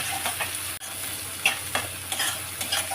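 Spice paste for a fish curry is stir-fried in oil, with an even close sizzle and repeated scraping strokes of a spoon against the pan, plus one brief sharp knock.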